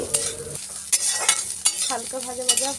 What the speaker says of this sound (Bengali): গাজর আর ফুলকপি আমি দিয়ে দিলাম এখানে। দেওয়ার পরে এটাকে আমি হালকা ভাজা ভাজা করবো